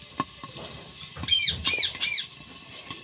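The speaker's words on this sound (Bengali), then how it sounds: "তেল ছিটকাচ্ছে।" Hot oil crackles and spatters while magur fish fry in a pan, giving quiet, irregular pops and sizzling bursts.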